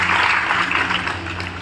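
Audience at a live comedy show in Chhapra applauding, a dense steady wash of clapping throughout, loud and close, easing slightly toward the end.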